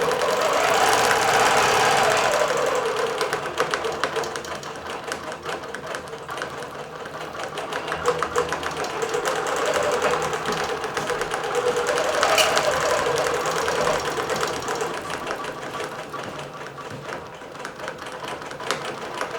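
A computerized quilting machine stitches a bellflower pattern across a butterfly quilt, running as a continuous rapid mechanical chatter with a steady motor hum that rises and falls slightly in intensity throughout.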